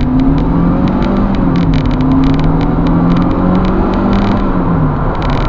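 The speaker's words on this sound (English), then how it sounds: "Right, we're doing 0 to 60 test." A 2001 Mercedes E-Class with a 2.0-litre engine accelerates hard from 0 to 60 mph, its engine note climbing loud and steady through the gears, heard continuously from inside the car with no talking.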